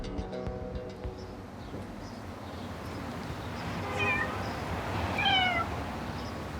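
A cat meows a few times, short rising calls heard over a steady background murmur in a home in Marseille, fairly near but not loud.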